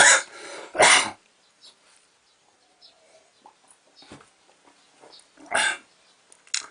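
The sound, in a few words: throat clearing and coughing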